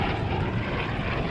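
Vought F4U-5 Corsair propeller fighter at an air show at Cecil Field, a brief, steady engine-and-propeller roar, loud and even, with no talking.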